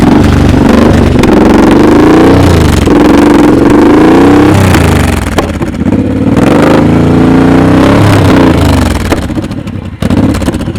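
A motorcycle engine revs and surges up and down, loud and close, during slow-speed riding practice with a clutch being let out, the pitch rising and falling unevenly throughout.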